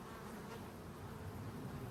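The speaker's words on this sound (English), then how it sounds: "Young bees attending to the larvae down here." Honey bees buzz steadily in an open brood chamber of a hive during an inspection, a close, continuous low hum with no voices.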